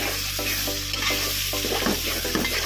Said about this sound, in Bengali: একটু গরম মশলা দেব, দারচিনি, এলাচ, লং, তেজপাতা দিয়ে আবার একটু কষিয়ে